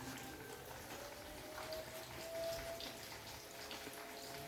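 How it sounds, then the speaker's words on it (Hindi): Heavy rain falling outside, a continuous broadband hiss of steady downpour heard from indoors, even and unbroken with no voices. "बहुत तेज़ बारिश है"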